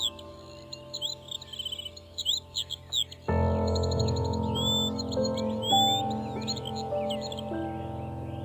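A bird in an animated Hindi folk tale gives a run of quick, high chirps and trills before a swell of background music comes in and the chirping continues faintly over it.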